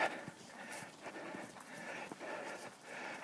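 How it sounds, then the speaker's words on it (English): A dog trailing a man pants rapidly and rhythmically close by, steady huffing breaths continuing through the whole stretch outdoors. "I think that guy has a dog"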